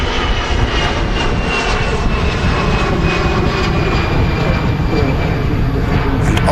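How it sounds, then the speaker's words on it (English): A Lufthansa Airbus A319 jet rumbles loudly and steadily at Manchester Airport, a broad, sustained engine roar with a faint whine on top and no clear voices. "Here comes the Luduk Lufthansa A319"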